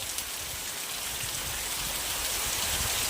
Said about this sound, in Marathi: कुठं बाहेर जायचं म्हटलं आणि पाऊस आला